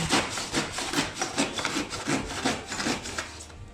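A hand saw cutting through a piece of foam with quick, rhythmic back-and-forth rasping strokes, close and fairly loud, with no talk.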